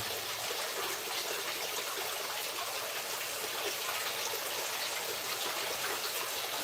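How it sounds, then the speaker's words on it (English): Water runs steadily out through the drain of a flow-through fish tank holding tilapia, goldfish and gouramis, a soft, constant trickling hiss with no pauses and no voices. "So the water is constantly running and entering and leaving."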